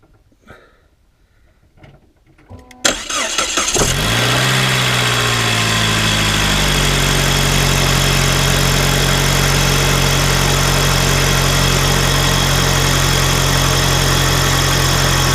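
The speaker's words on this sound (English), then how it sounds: "Right, start the car." Saab 9-5 2.3 Aero with a major oil leak onto the exhaust, cranking and catching after a quiet start, revving briefly then settling into a loud, steady idle close by.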